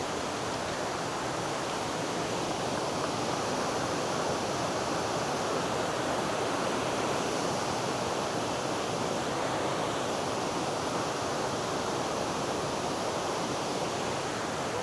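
Water rushes over the top of a waterfall on the Hafod Estate in a constant, dense broadband roar that holds steady and close with no breaks or voices.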